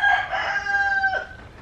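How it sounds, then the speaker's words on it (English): A single rooster crows once, a short, fairly close cock-a-doodle-doo. "I'm going to kill that rooster"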